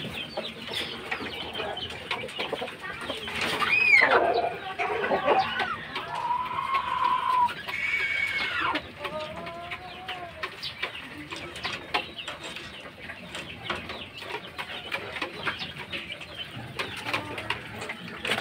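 Fighting roosters kept outdoors on bare ground crow and cluck at moderate distance, with several crows rising and falling amid scattered clucks, other birds and faint background chatter.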